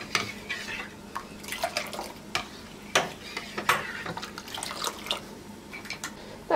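A milk and yogurt mixture poured and scraped into a glass baking dish, with soft splashy drips and clinks of a utensil against the dish, close and fairly quiet, no speech.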